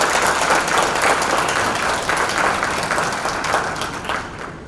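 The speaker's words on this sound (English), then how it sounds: "Let's give her a round of applause" An audience at an event applauds the Douglas County undersheriff, a loud, full round of clapping from a crowd that holds steady and then gradually tapers off toward the end.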